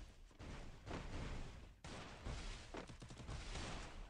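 Gunfire from the video game Garena Free Fire bursts out in rapid, clustered volleys with short gaps between them, dense and fairly close, though quiet overall and without talk.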